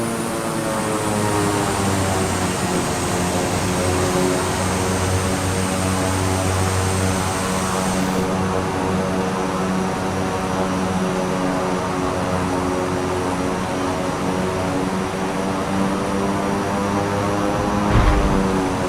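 Propeller airplane engine droning steadily and loudly while the plane comes in to land in a take-off and landing challenge, a sustained tonal hum with a brief bump near the end and no talking.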